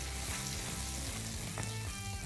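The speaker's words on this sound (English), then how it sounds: "Get our pan nice and hot. A little dash of oil. Bit of butter." Butter and oil sizzle in a hot pan, a steady close-up frying hiss that runs the whole time with no talking.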